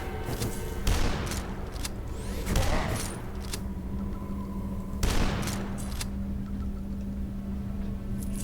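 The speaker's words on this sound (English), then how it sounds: "Super shotgun." Super shotgun blasts in a video game: three heavy booming shots spaced a couple of seconds apart over a steady background hum, each loud and close with a short rumbling tail.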